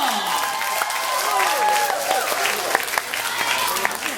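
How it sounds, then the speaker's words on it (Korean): An audience at a children's daycare recital claps steadily throughout, with a voice talking over the applause. "들어갈 때 박수 한 번 더 주세요"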